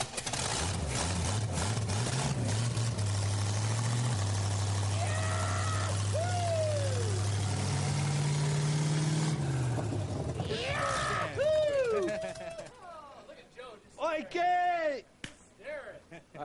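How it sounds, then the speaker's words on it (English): A fire engine's low engine rumbles steadily for several seconds, then drops away as voices and shrill whooping sounds take over. "At last, the firemen get to spark up their engine."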